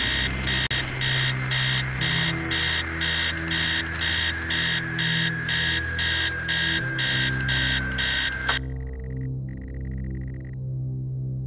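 Loud pulsing beeps from an alarm clock in the horror game Stories Untold repeat steadily over a low hum, then cut off abruptly near the end, leaving faint ambient tones.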